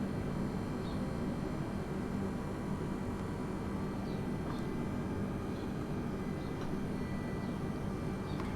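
Airbus A320neo engines throttling up for taxi, heard from inside the cabin on an Orbit Airlines flight from Portland to Seattle: a steady, even, broadband roar that holds level for the whole stretch with no talking.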